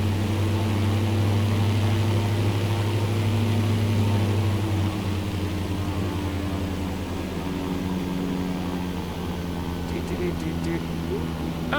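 A propeller plane's engine drones steadily in a flight simulator game, a loud, constant low hum that eases slightly partway through, with faint clicks near the end.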